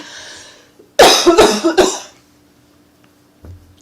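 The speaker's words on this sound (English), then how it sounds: "sorry about the cough" Three sharp coughs in quick succession, close and loud, preceded by a faint background murmur and followed by quiet.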